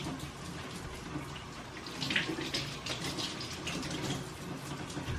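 Tap water runs steadily into a sink while sausage meat is rinsed, a continuous even splashing rush with no break throughout.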